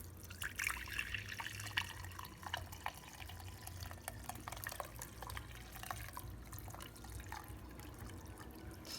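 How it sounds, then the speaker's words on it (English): Avocado dye water is poured carefully through cheesecloth in a strainer, giving a faint, continuous trickle and drip of liquid with scattered small splashes. "I'm gonna carefully pour."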